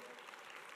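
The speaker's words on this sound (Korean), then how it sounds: "박수로 영광을 올립니다" Church congregation applauding during a Korean sermon, a steady dense patter of clapping filling the short moment without a break.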